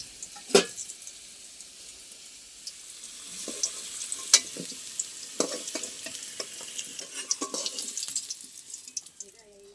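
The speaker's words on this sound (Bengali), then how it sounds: "একই তেলের মধ্যে চিংড়ি মাছগুলো ভেজে নেব।" Marinated prawns fry in oil in a pan, in the same oil already used to fry potatoes. Crackling spits and pops come irregularly alongside soft stirring and water-like hiss.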